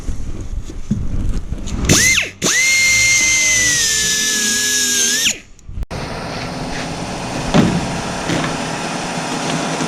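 A power tool cuts through rusted bolts on a Renault 4L body during restoration, a loud sustained whine rising then dropping away after a few seconds, followed by quieter workshop noise.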